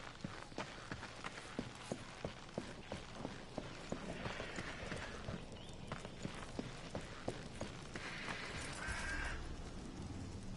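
Horse hooves clip-clop in a video game, a steady rhythmic trot of sharp knocks over a low ambient rumble, with brief brighter noise bursts layered in.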